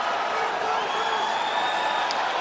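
A Canadian crowd at a mixed martial arts bout roars steadily as a fighter secures a takedown, a continuous wash of cheering with no distinct breaks, moderately loud and distant.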